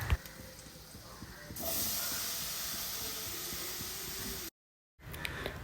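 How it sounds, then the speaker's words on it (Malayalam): Banana pieces dropped into hot ghee in a pan set off a sudden steady sizzling hiss after a quieter start, continuing close and even until a brief cut, then resuming. "ഇനി ഇതിലേക്ക് നമ്മൾ കട്ട് ചെയ്ത് വെച്ച പഴല്ലേ അത് ചേർത്ത് കൊടുക്കാം."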